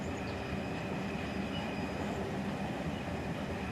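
A heavy freight train in Run 8 Train Simulator III rumbles along under braking, a steady loud roar of wheels and cars with faint high squeal tones, no talking.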